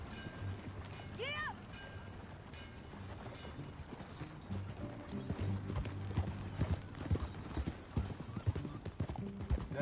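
Horse hooves clip-clop steadily in Red Dead Redemption 2, joined by a brief whinny early on, with game music and ambient sound underneath throughout.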